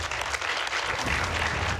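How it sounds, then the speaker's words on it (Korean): A small gathering claps after a weighty remark in a Korean television drama scene, a steady wash of applause at moderate distance with a low rumble beneath. "묵직한 말에 절로 나오는 박수"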